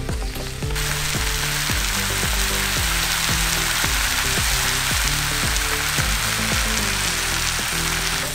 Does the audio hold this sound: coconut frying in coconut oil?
yes